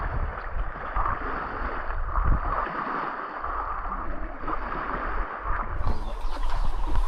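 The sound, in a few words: motor boat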